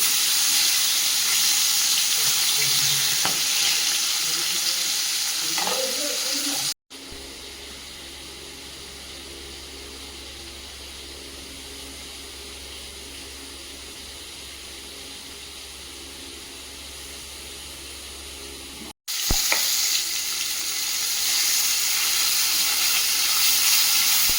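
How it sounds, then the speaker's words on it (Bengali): Steady hissing sizzle of fish frying in oil in a kadai, loud at the start and end with a quieter, muffled stretch of lower rumble in between. "মাছগুলো ভেজে নেব"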